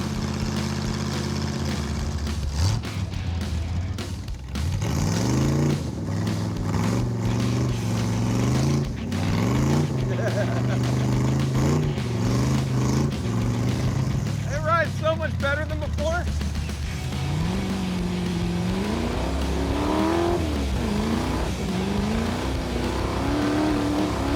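An open kart-style car with no windshield accelerating on a desert drive, its engine loud and close, revving up through repeated gear shifts with rising then dropping pitch, while someone talks over it.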